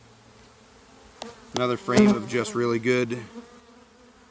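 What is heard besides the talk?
honey bees buzzing on hive frame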